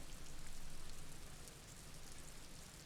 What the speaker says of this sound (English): Nice rain noises, at least.